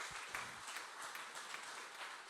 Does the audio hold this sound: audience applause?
yes